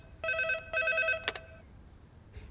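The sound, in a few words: telephone ringing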